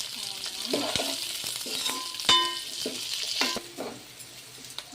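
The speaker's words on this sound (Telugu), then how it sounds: "కట్ చేసుకున్న ఉల్లిపాయలు క్యాప్సికమ్ ఇది కూడా బాగా ఫ్రై అవ్వాలి" Chopped onions and capsicum sizzle in a pan for Manchurian, with a soft steady frying hiss broken by clinks and scrapes of a spoon stirring against the metal, close and fairly quiet.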